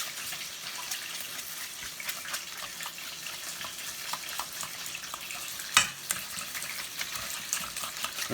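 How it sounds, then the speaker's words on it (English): A whisk clicks and scrapes rhythmically against a bowl while blending a thin blue cheese dressing with Worcestershire for Buffalo wings, with quick ticking strokes and one sharper clink near the end. "Now I'm just going to whisk it up."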